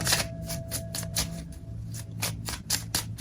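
Tarot cards being shuffled by hand, a quick run of crisp riffling slaps and flutters in steady bursts, close and fairly loud, with no talking.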